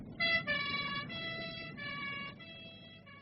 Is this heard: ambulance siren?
yes